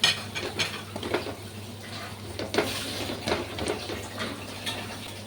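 Onions and masala are stirred in a metal pan, with close, repeated scraping and light clinks of the spoon against the pan over a low, steady sizzle.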